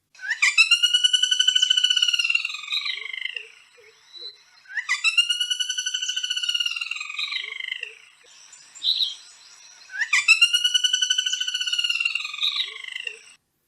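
A woodpecker gives a loud, laughing call, three harmonic bursts of rapid repeated notes with short pauses between them, heard alone with no talk.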